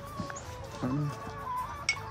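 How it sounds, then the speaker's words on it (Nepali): Chickens cluck nearby in short, throaty bursts over a steady background hum, with one sharper call near the end. "हाम्रो घर कुखुरा छ नि त साथीभाइहरू"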